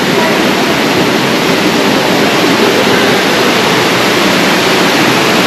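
A waterfall in the Svirskaya gorge near Lazarevskoye, Sochi, roars as a loud, unbroken wash of rushing water close by, steady throughout.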